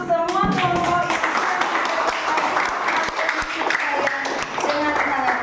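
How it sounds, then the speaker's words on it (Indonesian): A classroom of children clapping for all the groups, rhythmic hand claps close by mixed with young voices talking and calling over them. "Tepuk tangan untuk semua kelompok"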